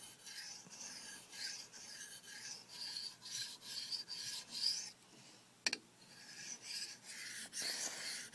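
A blade is sharpened on a 306 ultra fine stone as its micro bevel gets touched up, making a series of soft, rhythmic scraping swipes, close and fairly quiet, with one sharp knock partway through.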